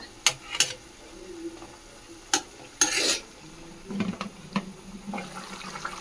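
Chicken frying in a pan for a home-style Sunday chicken fry, with sharp scrapes and clacks of a spatula stirring at irregular intervals over a soft, steady sizzle, close and alone without speech.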